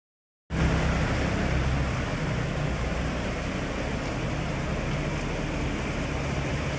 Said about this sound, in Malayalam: വെള്ളം ഇവിടെ ഈ ആറ്റിനുള്ള വെള്ളം ഇരച്ച് കയറിക്കൊണ്ടിരിക്കുകയാണ്